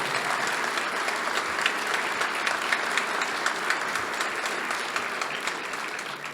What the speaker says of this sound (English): So you all give me a couple of rousing round of applause.